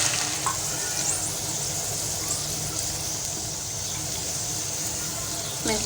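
Chopped tomatoes and green chillies hit browned onions frying in hot oil, bringing a steady, close sizzle with faint stirring.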